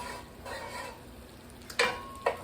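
Guanciale sautés in a pan, a soft steady sizzle running throughout, broken by a couple of sharp scraping knocks as a wooden spoon stirs it near the end.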